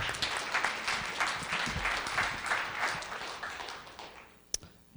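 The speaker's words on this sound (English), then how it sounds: "Let's give Austin a big round of applause." Audience applause for a student presenter at a high school pitch event, a room full of people clapping steadily, tapering off toward the end with a couple of isolated knocks.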